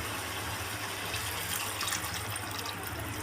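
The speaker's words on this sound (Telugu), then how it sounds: "ఒక చెంబు వాటర్ పోసుకుందాం" Steady rushing water pours continuously into a cooking pot, close and fairly loud, with a low hum underneath and no talking.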